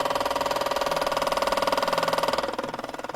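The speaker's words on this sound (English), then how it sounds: "So I can hear the little pump running." Small pump inside a steam cleaner running steadily with a fast, even pulsing buzz, close and fairly loud, its rhythm shifting slightly near the end.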